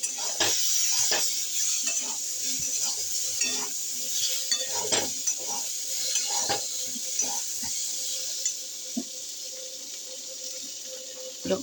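Vegetables stir-fried with salt and turmeric in a pan, a soft sizzle under repeated scraping strokes of a spatula in an irregular rhythm, close and fairly quiet.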